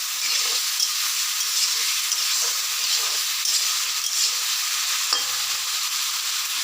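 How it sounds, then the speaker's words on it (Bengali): Green chillies with cumin seeds, cumin powder, salt and turmeric fry in hot oil for a potato curry, making a loud, dense, continuous hiss and sizzle with a few faint pops and no talk. "আর কাঁচা লঙ্কা ফাটিয়ে দিয়েছি"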